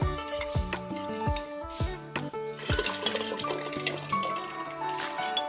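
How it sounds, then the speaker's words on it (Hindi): A spoon clinking and scraping in a pot while stirring semolina kheer in milk, with repeated metallic taps and soft liquid swirls in an irregular rhythm, close and clear with no talking. "अच्छी तरह से चम्मच चलाएंगे।"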